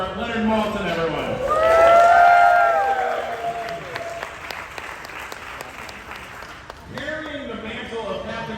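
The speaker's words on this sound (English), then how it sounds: "Another applause for Leonard Maltin" At a Comic-Con handprint ceremony in San Diego, an audience bursts into sustained applause with some cheering, while someone speaks over the clapping at the start and end.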